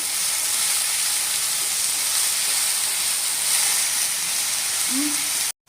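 Onions with onion paste sizzle as they fry in a pan for a Bengali bele fish curry, a steady close hiss running throughout with no talk, then cutting out abruptly near the end.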